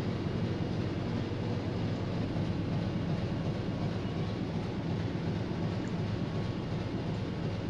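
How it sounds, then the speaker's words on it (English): Engine room of a submarine in the UBOAT video game, with the engine running as a steady, dense low rumble and broadband drone that holds at an even level throughout, with no voices. "Are you listening to the engine?"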